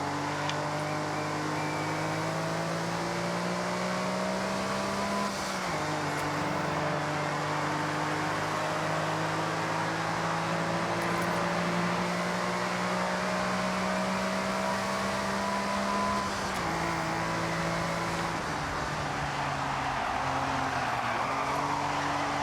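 Race car engine in Forza Horizon during a Space Centre road race: a steady, loud, droning engine held at high revs for the whole stretch, with brief pitch drops at gear changes and a rough undertone, no talk.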